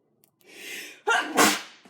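A single close, loud sneeze indoors in a kitchen: a short breathy intake followed by a sharp explosive burst that trails off quickly.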